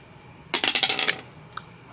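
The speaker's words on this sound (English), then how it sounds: "let me roll the dice and see" A quick burst of small rattling clicks as dice tumble across a hard surface during a reading-list game, lasting about half a second and followed by one last faint tick.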